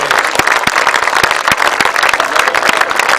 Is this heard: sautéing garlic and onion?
no